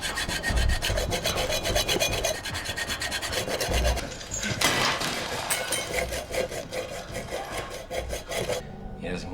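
Gritty saw blade rasping back and forth through metal chain in a horror film scene, steady rhythmic strokes close up, loud and continuous with a brief pause and shift in tone near the end.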